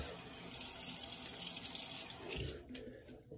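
Cool water runs steadily from a tap into a sink during a shave, a continuous close hiss and splash that eases off near the end.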